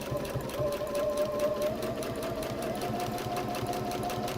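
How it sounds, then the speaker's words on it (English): Sewing machine stitching a piece of fabric closed, running steadily with a fast, even rhythmic clatter and a faint whine close to the listener, with no talk. "we're just going to sew this closed"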